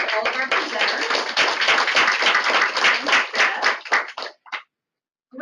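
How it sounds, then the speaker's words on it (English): An audience at a policy talk on gender-based violence gives presenters a brisk round of applause, close and fairly loud, with distinct hand claps that taper off abruptly into silence. "can we give a big round of applause to all of our presenters?"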